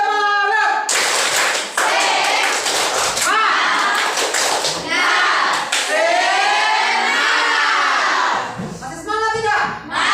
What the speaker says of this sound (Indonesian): Tepuk semangat. 1, 2, 3. Tepuk semangat.